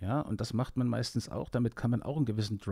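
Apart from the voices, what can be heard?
None of the usual background noises is heard.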